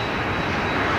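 A jet airliner landing at Toronto Pearson airport at night, heard as a loud, continuous broadband engine roar with a thin steady whine running through it.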